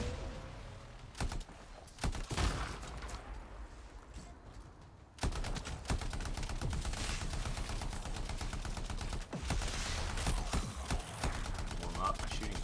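Gunfire from the video game Anthem: rapid bursts of automatic shots, sparse at first and then dense, sustained volleys with short pauses, over a background of game ambience.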